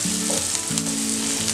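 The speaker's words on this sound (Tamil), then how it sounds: "இப்போ வெங்காயம் போட்டு வதங்கினதும் கொஞ்சமாக கருவேப்பிலை சேர்த்து வதக்கிடலாம்." Onions and curry leaves sautéing in oil in a pan, a loud, dense sizzle and crackle that runs steadily and close by, with a low hum under it and no talk.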